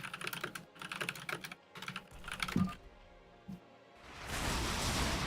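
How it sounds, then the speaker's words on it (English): Quick, near, uneven clatter of typing on a computer keyboard, stopping partway through before a broad rushing noise rises toward the end. "I just love typing whatever is incorrect."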